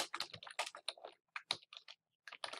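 Quick clusters of close keystrokes on a computer keyboard, clear and quiet, with short pauses between bursts while text is entered into a website button.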